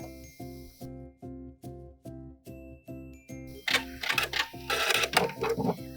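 Home sewing machine back stitching the end of a lace bralette band, a run of rapid, regular mechanical stitch bursts, close and clear, followed by busier rustling clatter of the needle and fabric.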